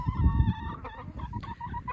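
A Naked Neck hen clucks while laying an egg, a close run of short nasal clucks and soft low grumbles from the bird, alone without talk.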